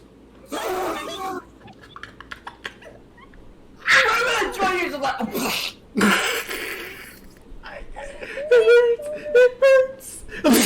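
Repeated sneezes from a man during a livestream, several sharp bursts spread across the stretch with whimpering, nasal noises between them and other people talking around them.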